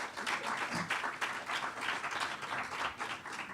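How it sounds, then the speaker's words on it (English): An audience applauds at a mayoral candidates debate in Newton, a dense, steady wash of many hands clapping throughout, moderately distant and even in loudness. "let's give them a round of applause for being here this morning"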